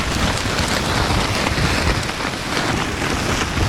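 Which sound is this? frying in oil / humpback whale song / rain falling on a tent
rain falling on a tent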